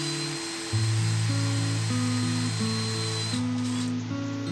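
A small drill with a 3 mm bit bores the tail hole into a wooden mouse-shaped tooth box. The motor whines loudly and steadily, its pitch stepping up and down with the load for several seconds, and no one speaks.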